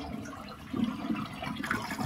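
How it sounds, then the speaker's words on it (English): A household toilet being flushed after its water supply was shut off during a running-toilet repair, draining the remaining water with a steady, moderate gurgling rush that swells partway through. "Flush out the rest of it."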